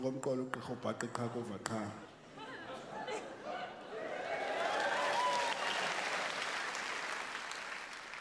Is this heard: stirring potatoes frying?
no